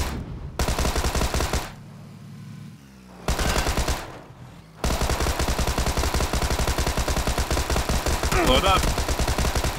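A Tommy gun fires in PUBG in long, rapid automatic bursts, loud and close, broken by two short pauses before a sustained stream of shots; a voice speaks briefly in between.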